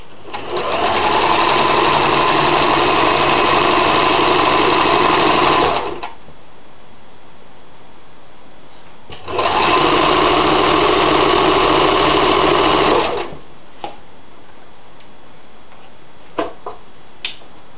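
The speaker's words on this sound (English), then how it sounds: "I'm just going to sew this right along to the end." A sewing machine stitching a seam on a drawstring bag runs in two loud, steady whirring bursts of about five and four seconds. Quiet gaps separate them, and a few faint clicks follow.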